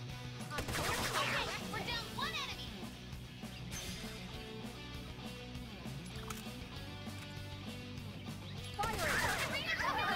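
Gunfire in the tactical video game Persona 5 Tactica: a couple of short, sharp bursts of shots, one near the start and one at the end, over a continuous musical score.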